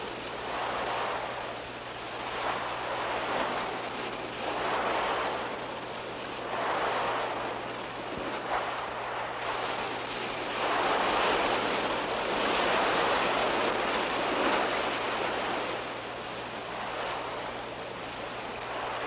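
Ocean waves roll in and wash onto a beach at Napier, New Zealand, in slow repeating surges, with a constant low hum and wind beneath and no voices.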